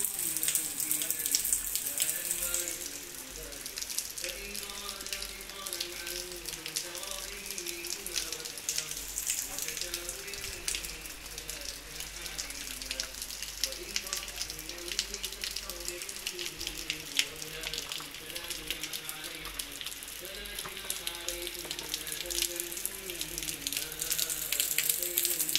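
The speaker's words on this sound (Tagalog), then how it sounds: "Ang lakas ng ulan." Heavy rain pours steadily in the UAE, a dense broadband hiss like running water that holds loud throughout, with voices and household sounds faintly underneath.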